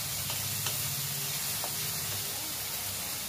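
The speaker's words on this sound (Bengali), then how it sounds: "পেঁয়াজটা ভাজা হচ্ছে" Onion paste, ground with green chilli, frying in a pan gives a steady, dense sizzle with a few faint clinks and stirring sounds, close and unbroken, with no talking.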